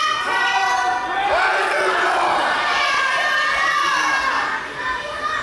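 A pro wrestling show crowd roars and shouts loudly and steadily, a dense wall of excited voices that holds throughout and dips only slightly near the end.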